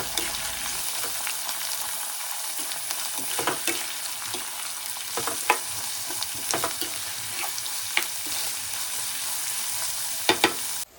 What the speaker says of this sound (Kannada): ಈಗ ಈರುಳ್ಳಿನ ಕೂಡ ಸೇರಿಸ್ಕೊತಾ ಇದ್ದೀನಿ. ಇದು ಕೂಡ ನೀಟಾಗಿ ಫ್ರೈ ಮಾಡ್ಕೋಬೇಕು.